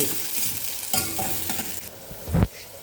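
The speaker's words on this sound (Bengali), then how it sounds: "এটা ভালো করে ফ্রাই করে এটা দিয়ে দেবো আমি সবজি" Dry red chillies, bay leaf, five-spice, garlic and onion fry in hot oil, a bright sizzle broken by several spatula stirs and scrapes, ending in one louder clunk against the pan.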